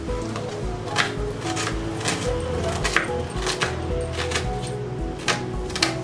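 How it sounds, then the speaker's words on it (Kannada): Onions chopped on a board for a home-cooked junka: a steady series of close, sharp knife taps in a quick, even rhythm with no talking over it. "ಫಸ್ಟು ಈರುಳ್ಳಿ ಕಟ್ ಮಾಡ್ಕೋಬೇಕು."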